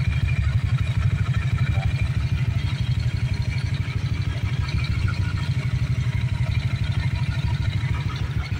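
A Honda Click 125 scooter fitted with an MTRT chrome bore runs steadily, its engine giving a continuous, even, fairly quiet putter with light clatter, heard close up without talk.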